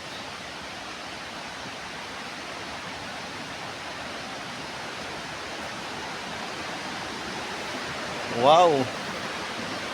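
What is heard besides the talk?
flowing water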